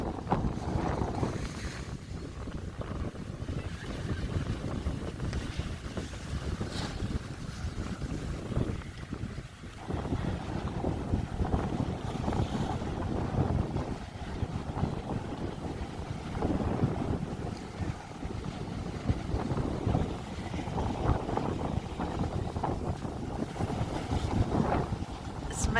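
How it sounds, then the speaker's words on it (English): Strong wind buffets the microphone in a steady, loud roar on a winter shoreline, with waves washing in beneath and a faint voice surfacing now and then. "Very windy today, very windy."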